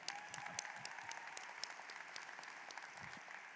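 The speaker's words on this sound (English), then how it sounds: "Let's clap for that." A high school graduation audience applauds scholarship awards, a steady wash of many hands clapping at moderate distance, fairly faint overall and without talk over it.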